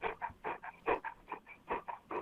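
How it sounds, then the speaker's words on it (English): An English Golden Retriever panting in quick, irregular breathy bursts mixed with soft whimpers, close by and fairly quiet, with no talk over it. "Now, is that a dog in the background"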